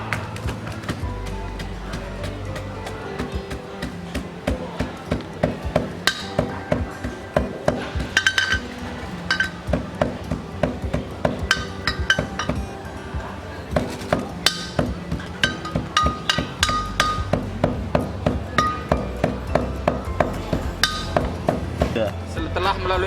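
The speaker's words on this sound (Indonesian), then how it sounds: "setelah diambil karbonnya kita tumbuk supaya bisa dipisahkan antara yang halus sama yang kasar" Carbon black recovered from a plastic-waste pyrolysis unit is pounded by hand to crush it, giving a steady run of sharp, close knocks and clinks that repeat for the whole stretch with no talk over them.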